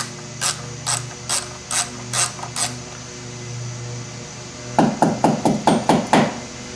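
A ratchet wrench works a very tight 2BA nut loose on a Rolls-Royce Phantom III under restoration: two bursts of sharp, evenly spaced clicks, each run of six or so, close and clear with a quiet pause between.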